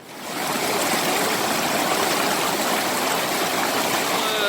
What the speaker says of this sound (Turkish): Çok güzel bir dere şuradan aşağı doğru iniyor.